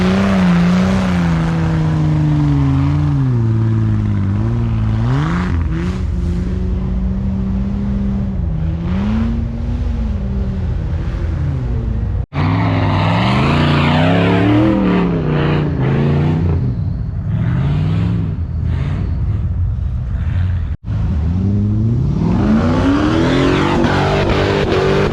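Jeep XJ engine roaring and revving hard while climbing a soft sandy hill at an off-road park, loud and continuous with rising and falling pitch and a couple of brief dropouts.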